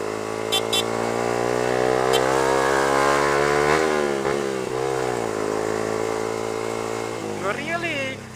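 A motorcycle on a street ride drones loudly and steadily, with the engine note rising and falling as the rider accelerates and eases off, while a rider talks over it.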